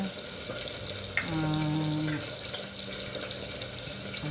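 Oil sizzles and crackles steadily as fish fries in a pan, with a brief scrape and a few kitchen clatters mixed in.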